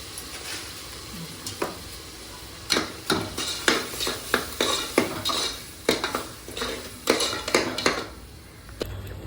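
A spoon scrapes and clinks against a pan while ingredients for sundal kurma sauté, in a run of sharp, uneven metallic knocks that quicken in the middle over a faint background sizzle.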